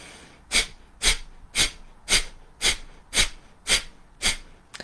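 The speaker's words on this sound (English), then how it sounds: "by doing a fire breath" Eight sharp, forceful breaths pushed out through the nose in a steady rhythm, about two per second, close up with no talking.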